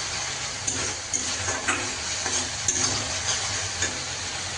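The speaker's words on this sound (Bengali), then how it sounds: "ভালো করে কষিয়ে নিতে হবে মশলাটা, যতক্ষণ না তেল ছাড়ে ততক্ষণ মশলাটা কষিয়ে নিতে হবে।" Spice masala sizzling in oil in a pan for a potato curry, under steady frying hiss with scraping stirs at intervals and a few sharp clinks of the spoon against the pan.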